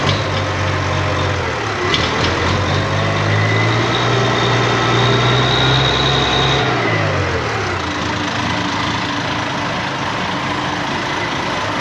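An IHC 1055 tractor's diesel engine idles steadily at close range, not yet fully warm, a low rumbling drone that shifts pitch slightly partway through, with no voices.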